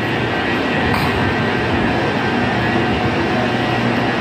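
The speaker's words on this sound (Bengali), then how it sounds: "এই হচ্ছে কাঙ্ক্ষিত সেই ট্রেন। ওয়াও অনেক সুন্দর বুলেট ট্রেন।" A Haramain high-speed bullet train runs between Medina and Mecca, a loud, steady, broadband rumble and rush that holds evenly throughout with no talk.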